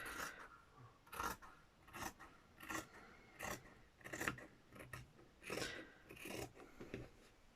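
Scissors snip through fabric around a bulky seam while finishing a stitched needle keeper book, about ten crisp rhythmic cuts in steady succession, close and fairly quiet with no talking.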